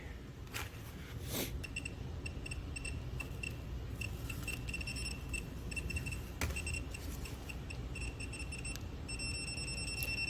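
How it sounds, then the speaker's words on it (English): A high electronic beep from a 2008 Volvo S40 repeats several times as a button is pressed, thin steady tones over a constant low background hum. "when I press that button, see how that yellow triggers and you hear the beep?"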